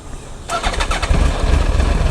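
A motorcycle fitted with an ERP 2.0 OBU unit starts up close by in Singapore, with the engine catching about half a second in and then settling into a steady, throaty idle.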